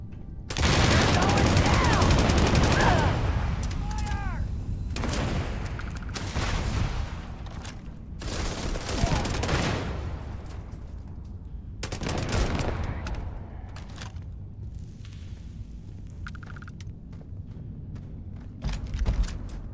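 Bursts of gunfire from an old hunting rifle and other weapons in the video game Starfield crack out in clustered volleys, loud at first then sporadic, with game dialogue and effects between shots.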